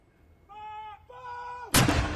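A gun salute for Queen Elizabeth II fires one sharp, booming blast at the end, preceded by a long tonal whine and swelling drone, heard without talk.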